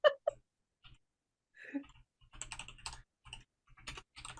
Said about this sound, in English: is typing furiously